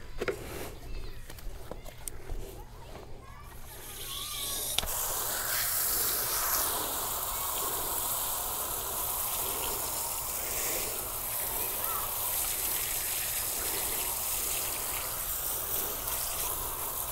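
Water sprays steadily against a Jeep during a wash, a broad continuous hiss that starts partway in and then runs unbroken, fairly close. Talk is heard at the start, before the spray begins.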